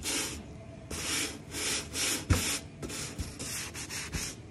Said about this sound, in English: going to give it a good scrub